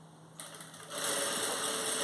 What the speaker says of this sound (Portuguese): a gente vai fazer uma costura nas duas laterais